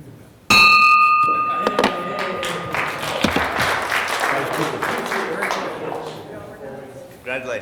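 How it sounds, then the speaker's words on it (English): A bell rings once, clear and sharp, at a Rotary Club breakfast meeting, then its tone fades under a burst of applause and overlapping voices of the crowd. "Ring the bell."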